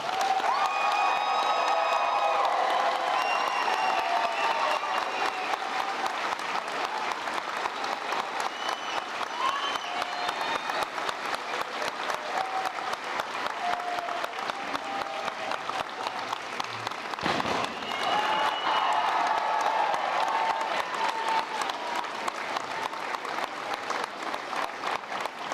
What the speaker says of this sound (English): So a round of applause for our graduates.